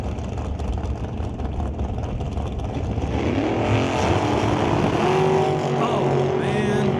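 A drag racing roadster launches hard down the strip at a bracket race, a loud, sustained engine roar that swells and shifts in pitch as it pulls away, with faint crowd and announcer chatter underneath.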